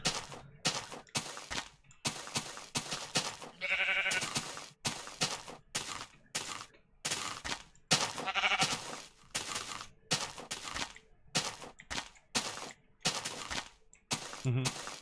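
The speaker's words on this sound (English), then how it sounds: "Need these sheep to get in the pen." Minecraft sheep bleating repeatedly near a farm pen, short nasal bleats in quick irregular bursts separated by brief gaps.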